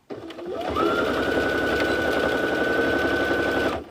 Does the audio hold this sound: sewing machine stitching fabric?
yes